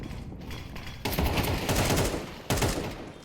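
Loud gunfire in a tournament match of a tactical team shooter, a headshot fired through smoke near a bomb site: a dense continuous rattle of shots with two sharper bursts of fire striking partway through.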